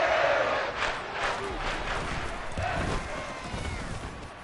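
A stadium crowd in an American football video game, Browns versus Bills, cheers a big touchdown play, a broad sustained roar that swells and fades under a commentator's voice.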